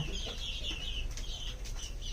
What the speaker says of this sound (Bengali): এগুলো সব ডিম পাড়া মুরগি